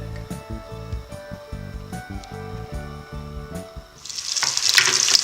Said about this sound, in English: So the palm oil goes in.